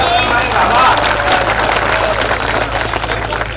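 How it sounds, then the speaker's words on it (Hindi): Audience applause at a Hindi poetry gathering (kavi sammelan), a dense burst of clapping that gradually thins out amid crowd murmur. "तालियां बजा लीजिए"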